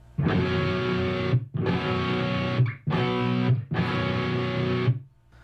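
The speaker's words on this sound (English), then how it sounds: "You take the root, the fifth, and you add the ninth on top." Four heavily distorted guitar power chords with an added ninth on top of root and fifth ring out one after another, each sustained for about a second, loud and alone.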